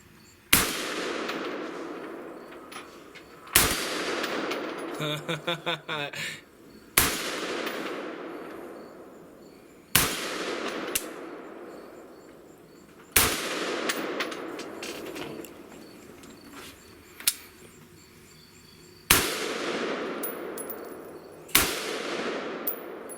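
A 5.56 rifle fitted with a Vortex scope and Dead Air Sandman suppressor fires on an outdoor range: eight sharp, loud single shots at irregular intervals, each trailing off in a long echo, plus a quick rattling burst of metallic clicks between the first shots.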